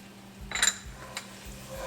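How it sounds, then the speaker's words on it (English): Kashmiri chili and coriander powder stirred in a hot pan, with a quick scraping clatter of spoon against metal, a couple of lighter knocks after it, and a faint sizzle underneath. "Stir this around real quick."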